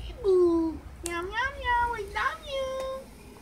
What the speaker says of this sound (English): Simba said I love you. Good boy. Say I love you again.